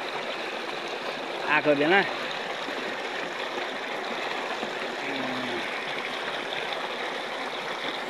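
Steady water rushes and trickles into a paddy field in Nepal as the rice nears ripening, a continuous close flow that never stops, with a brief voice speaking over it.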